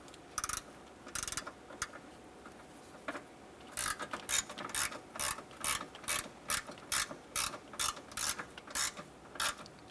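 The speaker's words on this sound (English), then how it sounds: "Using your E5 inverted Torx socket with the ratchet," Ratchet driving an E5 inverted Torx socket to snug down a front impact sensor bolt on a 2015-2020 Cadillac Escalade, giving a run of quick, evenly spaced clicking bursts, sparse at first then steady and close, with no talking.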